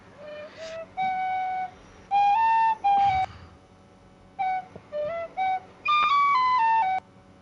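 A clear, tonal whistled tune in several sustained, sliding phrases with gaps between them, loud and close, with no talk over it.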